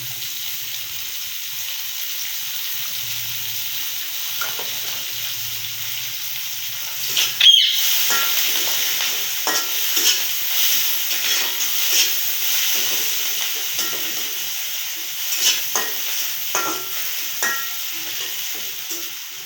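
Oil sizzling and frying in a pan while pangas fish curry with cauliflower, beans and potato is cooked, a steady crackling hiss with occasional stirring scrapes and a louder burst partway through.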